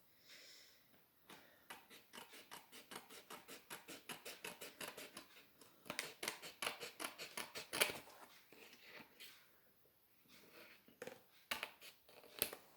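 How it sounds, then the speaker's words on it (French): Scissors snip repeatedly through excess paper while an envelope album is being made, a steady run of close, crisp cuts with a brief pause near the middle and a few scattered snips at the end. "Moi, je vais couper ce qui dépasse"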